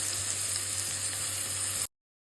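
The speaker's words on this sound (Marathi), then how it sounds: "आता ह्याला चांगला आपण जोपर्यंत मीडियम गोल्डन होत ना तोपर्यंत आपण सोते करायचं." Sliced onion sautés in a pan until soft and medium golden, giving a steady, close, dense sizzle that fills the short stretch and then cuts off abruptly.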